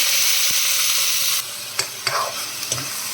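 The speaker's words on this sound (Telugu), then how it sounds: "కొంచెం మినప్పప్పు వేసుకుందాం ఉల్లిపాయలు వేసేసుకుందాం" Urad dal and onions hit hot oil in a pan, giving a bright close sizzle that drops into softer crackling frying, with a few scraping stirs of a spoon near the end.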